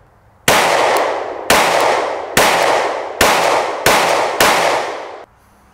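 Six loud, sharp pistol gunshots fired outdoors with a Cyelee Ghost red dot sight, spaced at roughly even intervals, each cracking close by and ringing out in a long decaying echo.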